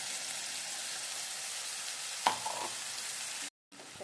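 A pinch of asafoetida and ground masala paste hit hot oil in a pan while making bitter gourd in black masala, producing a steady close sizzle with one sharp burst partway through before the sound cuts out briefly.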